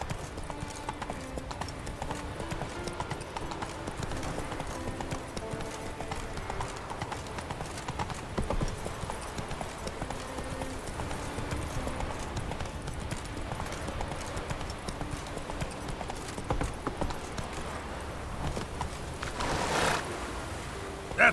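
Rapid rhythmic clip-clop of the horse Roach galloping in The Witcher 3, steady and close throughout over a continuous bed of ambient game sound, with no pause in the hoofbeats.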